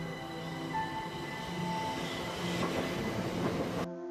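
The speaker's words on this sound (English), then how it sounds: "other than the screech of the wheels and brakes." A train runs through a tunnel with a sustained high metallic screech of wheels and brakes over a rolling rumble, ending abruptly.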